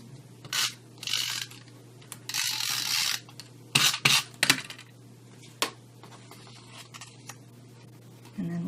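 A Stampin' Up SNAIL adhesive tape runner clicks and ratchets in short bursts as it lays adhesive on card stock, close and crisp over a low steady hum.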